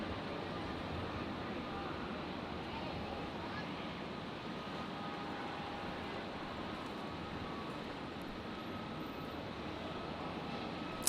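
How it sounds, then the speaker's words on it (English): Boeing 737 Max 8 jet at Brisbane airport, a steady broad roar of engine noise held at even loudness throughout, distant and unbroken, with no talk over it. "Oh, this one's a real Max 8."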